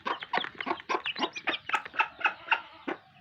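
A native hen clucks close by beside seventeen newly hatched chicks, a quick run of short, soft clucks and cheeps in an uneven, busy rhythm.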